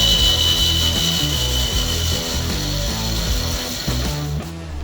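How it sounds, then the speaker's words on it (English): A bandsaw trims excess timber from a wooden axe handle, running steadily and loudly with a repeating rhythmic pulse as the blade works through the wood, fading slightly near the end. "any excess timber is trimmed off using a bandsaw"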